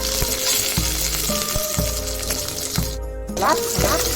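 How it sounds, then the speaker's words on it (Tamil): Mustard seeds and curry leaves splutter and crackle in hot oil for a Tamil bottle gourd sambar, a steady close sizzle throughout with a brief sharper burst near the end. "கொஞ்சமாக கடுகு, கருவேப்பிலை நல்லா பொடி வரட்டும்"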